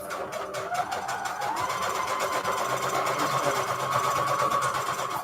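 A sewing machine stitches through paper up close, its needle rattling in a fast, even rhythm over a mechanical hum, with no talking.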